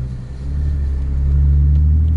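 A manual transmission car creeps slowly through a supermarket car park, its engine giving a steady, close low rumble that swells slightly as it rolls along, with no talking.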